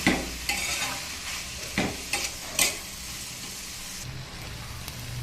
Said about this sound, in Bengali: দেখুন শাকটাকে আমি একটু ভালো করে কষিয়ে নিয়ে তারপরে একটু জল দিয়ে দিয়েছি